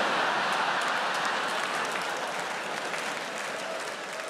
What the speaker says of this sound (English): Don't clap that, you racist bastard.